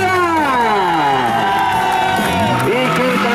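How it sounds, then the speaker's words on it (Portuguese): Party crowd at Jair's birthday celebration cheering, whooping and shouting loudly all at once, a dense, close burst of voices. "Uma salva de palmas mais que especial pro Jair, galera!"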